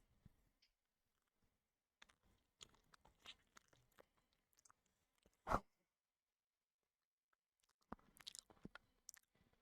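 Soft, close ASMR-style chewing and slurping of jelly: scattered wet clicks and mouth noises over near silence, with one louder slurp in the middle and a cluster of moist chewing sounds toward the end.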